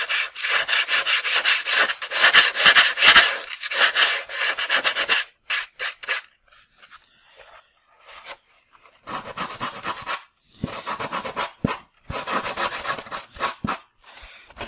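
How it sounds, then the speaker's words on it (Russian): Sandpaper rubbed back and forth along the edges of a model seaplane (Nyrok Next 1300) in loud, rhythmic bursts of scraping strokes, then a quieter pause before shorter sanding passes resume, with no talking. "при необходимости кромку всегда можно подровнять наждачкой"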